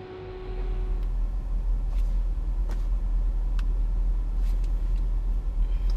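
Formula E race cars on the Jakarta street circuit build into a loud, steady low rumble after a short quieter start, with faint clicks and a thin whine over the continuous drone and no talk.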